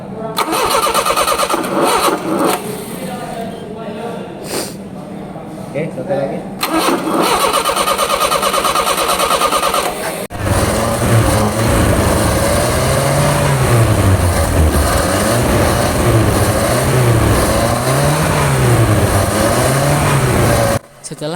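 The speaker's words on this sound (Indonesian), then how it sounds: "nyalakan mesin dengan memutar kunci kontak ke posisi starter" A gasoline motorcycle engine cranks with the key in the starter position, catches, and runs with a rough, uneven idle that rises and falls in pitch, loud and close; a person speaks briefly near the start.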